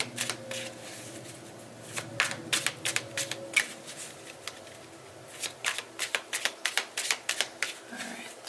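Tarot cards being shuffled by hand in quick bursts of riffling flutters, close and crisp, with short pauses between shuffles and a voice murmuring faintly underneath.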